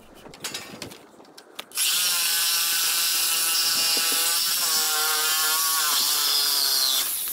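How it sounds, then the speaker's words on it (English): A Sawzall reciprocating saw bites into an old iron railing. Some knocks and clatter come first, then a loud, continuous, harsh rasping buzz of blade on metal, close by and without talk. "And the Sawzall is the perfect tool for this job."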